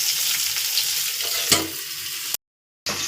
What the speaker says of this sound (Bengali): এবার আমি এক এক করে করলাগুলো সব এতে তেলের মধ্যে দিয়ে দেবো